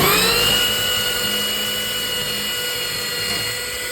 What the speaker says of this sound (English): I grinded down with this like I showed you a minute ago